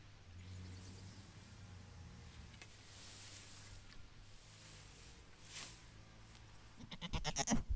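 Goats on a meadow smallholding bleat faintly in the distance while being given freshly gathered greens, with a low steady background hum and a burst of louder clattering and rustling close by at the end.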